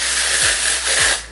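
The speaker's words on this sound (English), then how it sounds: "I'm just going to spray it all through my hair." Texture spray hissing through hair in a continuous loud, close spray lasting just over a second.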